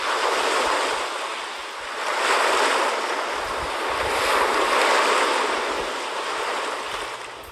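Ocean surf rolls continuously in a Kirby and the Forgotten Land video game trailer, broad washing swells rising and falling in slow waves with a breezy hiss, no voices.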